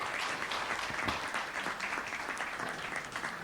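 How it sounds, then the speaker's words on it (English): A conference audience applauds a panelist with a steady, dense round of clapping from many hands that holds even throughout, heard alone without talk. "Let's have a huge round of applause, everyone"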